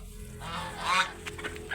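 A few nasal honking quacks from ducks, close by and fairly faint, over quiet background noise.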